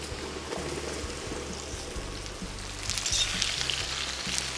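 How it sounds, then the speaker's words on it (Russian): Mushrooms fry in a kazan over a campfire, giving a steady close sizzle and hiss with a low rumbling undertone and a brief rise in crackle partway through. "Обжариваем их до готовности."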